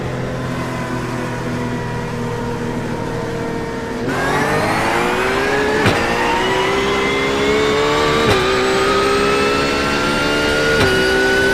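GT3 race car engines at Mugello or Okayama in iRacing surge at the green flag, a loud close engine note rising through repeated upshifts with sharp shift breaks, no talking.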